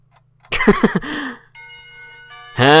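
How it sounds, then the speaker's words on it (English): A school lunch bell in the visual novel Katawa Shoujo rings as a brief chime with sustained tones, following a short vocal-like sound and ending on another rising tone. "Lunch bell sounds, and I bring myself out of the stupor I slipped into during morning classes."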